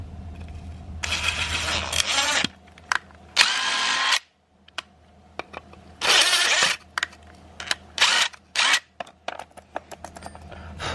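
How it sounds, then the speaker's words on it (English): A power drill bores out a mounting hole for front lip and canard hardware on a Mazda Eunos, running in several loud bursts of varying length with quiet gaps and small clicks between them. "you do need to drill it out a tiny bit, very little"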